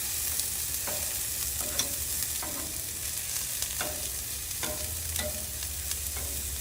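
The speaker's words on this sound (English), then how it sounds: "So now we're going to roast our peppers, tomatoes, onions. Get some oil down." Peppers, tomatoes and onions roast in oil on a preheated Blackstone griddle, giving a steady broad sizzle with scattered scraping stirs from a spatula, close and continuous with no voices.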